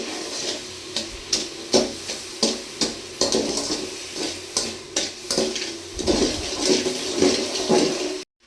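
Sugar, a little water and 100 grams of sugar, stirred nonstop in a pan for caramel: a steady bubbling sizzle with rhythmic scraping strokes about every 0.7 seconds, close and fairly loud.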